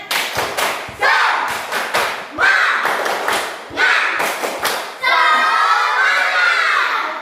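A group does the Indonesian 'tepuk semangat' spirit clap in a brisk rhythmic pattern, sharp bursts of hands in sequence, ending with children shouting together.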